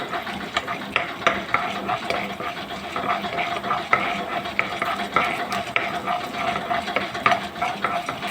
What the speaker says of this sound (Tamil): பிறகு உளுந்தம்பருப்பை சேர்க்க வேண்டும். சிவக்க வறுக்க வேண்டும்.